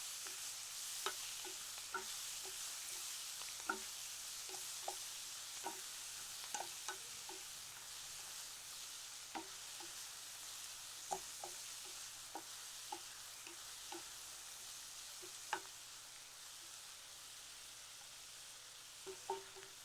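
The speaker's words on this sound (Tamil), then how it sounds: "இந்த கீரை மட்டும் தீயை குறைச்சி வச்சு கொஞ்சம் நேரம் நல்லா வதக்கணும்." Fenugreek (methi) leaves sauté in a pan over a low flame, a soft continuous sizzle broken by frequent light scrapes and taps of a stirring spoon, close and steady.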